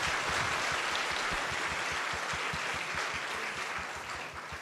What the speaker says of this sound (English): So let's get a round of applause for them because it would not be possible without them